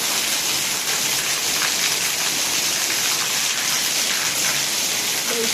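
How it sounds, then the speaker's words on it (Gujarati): Steady rain falling in a village, a continuous dense hiss of drops on surfaces, even and fairly loud with no talking. "અમારા ગામમાં થોડો છે વરસાદ, ડંગુડા પડે એવો"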